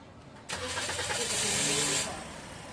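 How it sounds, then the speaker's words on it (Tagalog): A Toyota Vios engine cranks and catches just after an oil change, rising to a brief loud rev for about a second and a half, then settling back toward a steady idle, close by. "Tapos pwede ko nang pa-start itong makina."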